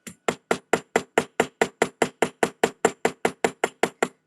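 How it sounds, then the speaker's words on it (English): A small metal jewelry eyelet is struck by a hammer in a steady run of about seventeen sharp, evenly spaced taps, close and crisp, with no talking. "Can I hammer it just a bit more here?"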